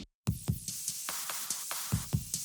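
A short music loop run through the Murder Melodies plugin with its low end filtered away, thin and bright with a punchy rhythmic pulse after a brief moment of silence.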